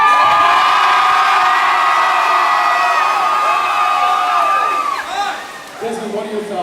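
A high school student section roars in a sustained, loud crowd cheer of shouts and whoops, dipping briefly near the end before surging again.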